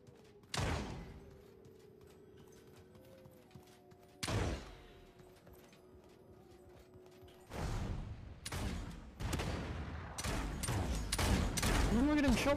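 Gunfire in the online shooter Anarchy 77: a few isolated sharp shots with ringing tails, then rapid bursts of automatic fire growing denser and louder toward the end, amid game mechanism sounds and occasional talk.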